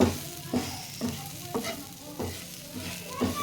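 Chicken fry with curry leaves sizzles and crackles in a hot pan, with a steady frying hiss broken by regular scraping stir strokes about every half second, close up and with no talking.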